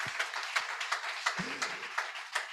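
A church congregation claps in applause, a quick series of moderate hand claps at a steady pace through the moment, with a faint low thump or two underneath and no one speaking.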